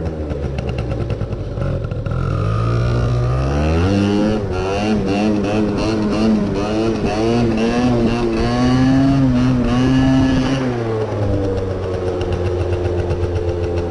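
Engine of a fully modified Honda moped revving hard during a wheelie, its pitch climbing and wavering as the throttle is worked, loud and steady throughout with no talk over it.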